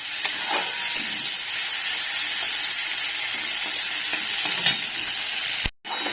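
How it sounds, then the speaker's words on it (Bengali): Prawns fry in a kadai with a steady, dense sizzle and crackle throughout, a few sharper pops, and a brief cut near the end. "তখন চিংড়ি মাছটা ভেজে নিচ্ছি"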